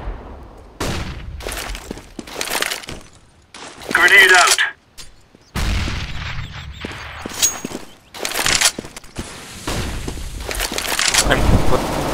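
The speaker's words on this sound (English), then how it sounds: "Deploying flashbang. Throwing flashbang." A flashbang grenade bursting during a Counter-Strike match on the Inferno map, among loud, sharp blasts and gunfire bursts separated by brief silences, with voices heard throughout.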